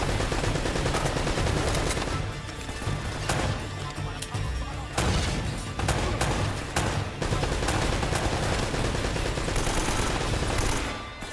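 Gunfire rattles in Uncharted: Drake's Fortune Remastered, dense bursts of automatic and single shots with explosive cracks running continuously at high volume, barely pausing between volleys.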